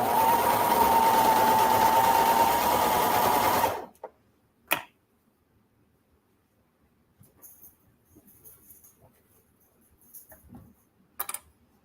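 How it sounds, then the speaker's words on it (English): A sewing machine runs steadily for nearly four seconds stitching the shoulder seams of a lined swimsuit through four layers of fabric, then stops, leaving quiet handling clicks and faint rustles. "I'm sewing 4 layers"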